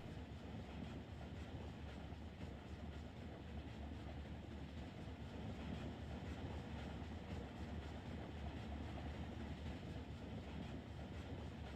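A CSX freight train, the local A720 on the Fitzgerald Subdivision in Run 8 Train Simulator, rolls along the track with a constant low rumble. Faint rhythmic clickety-clack wheel noise runs underneath, with no pauses.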